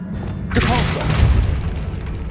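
A Depulso pushing spell in Hogwarts Legacy lands as a loud, deep boom with a rushing, crackling burst that swells at once and rumbles for about two seconds, set against steady game ambience.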